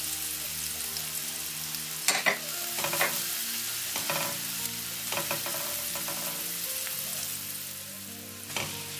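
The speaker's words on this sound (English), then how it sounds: "by adding in 2 tablespoons of vegetable oil into my hot pot, and I'm going to be adding in my diced onion." Diced onion fries in vegetable oil in a hot pot, a steady close sizzle with a few louder scraping stirs along the way and no talking.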